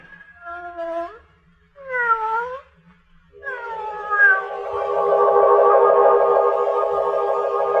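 Cat meows in a radio drama, several drawn-out, wavering cries: two short meows, then a longer, loud, echoing caterwaul with a rising wail, set against faint low background music.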